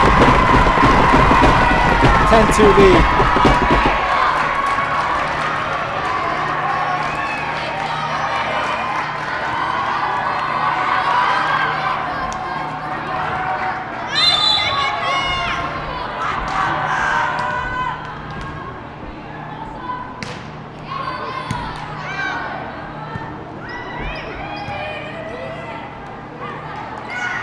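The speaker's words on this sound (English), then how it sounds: "The noise is loud from the crowd" A loud crowd roars and cheers in a gym at a high school varsity volleyball match between Scarsdale and Mamaroneck, sustained noise with shouts and rising bursts while a commentator talks over it.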